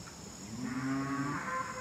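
One cow gives a long, low moo nearby, rising and holding for about a second over a faint outdoor background hiss, with no voice.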